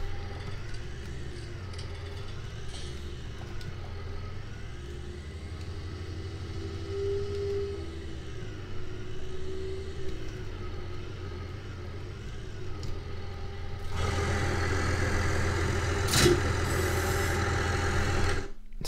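Roughly 50-horsepower tractor engine in Farming Simulator 19, a steady mid-pitched droning hum while reversing, rising to a louder, harsher engine roar in the final few seconds, alone with no talking.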